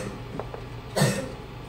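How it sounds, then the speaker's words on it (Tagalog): A single short cough stands out over steady background noise, preceded by a couple of faint clicks. "Uy, kaluoy man na ang ubo."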